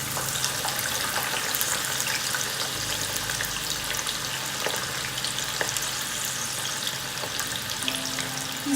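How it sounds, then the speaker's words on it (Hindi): Sweet potato pieces deep frying in hot oil for the Gujarati mixed-vegetable dish undhiyu, a steady close bubbling sizzle with faint clinks, no voices. "अब हम शकरकंद को भी इस तरह से डीप फ्राई करेंगे।"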